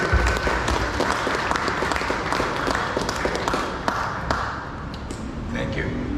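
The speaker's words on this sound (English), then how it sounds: "Big round of applause." Dense, sustained applause fills a hall at a design talk in India, a broad wash of many hands clapping steadily before settling slightly, with some voices mixed in.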